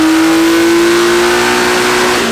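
A supercharged BMW engine revs hard and loud on a dyno, holding a strained, rising whine with a high supercharger tone that drops off at the end.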